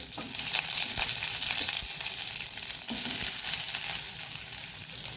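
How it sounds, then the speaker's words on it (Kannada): Mustard seeds splutter and crackle in hot oil, with onion added for a Mangalorean-style sambar, giving a steady, close, dense sizzle with scattered sharp pops throughout. "ಈಗ ಸಾಸಿವೆ ಒಳ್ಳೆ ಸಿಡಿಲಿ. ಸಾಸಿವೆ ಸಿಡಿಯುವಾಗ ಸ್ವಲ್ಪ ನೀರುಳ್ಳಿ,"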